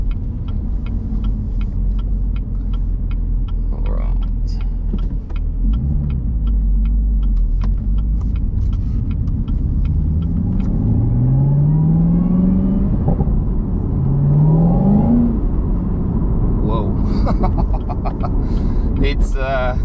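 A 2020 Chevrolet Camaro ZL1 with a supercharged V8 pulls hard on the road, its engine note rising through rising sweeps and gear changes, loud and close over cabin rumble, with someone talking briefly.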